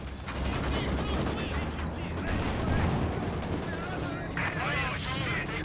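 Gunfire in the video game Company of Heroes 2: dense bursts of machine-gun and rifle fire rattle on continuously, mixed with mechanical battle noise while a voice talks over it.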